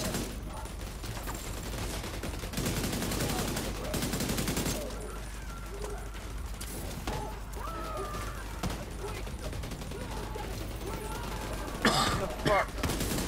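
Rapid gunfire from The Division 2 crackles in bursts over a dense wash of game noise and music, with a voice talking now and then.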